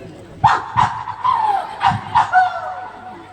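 A person imitates a dog barking, giving about five short voiced yaps in an uneven rhythm, close and clear, with no other talk around them.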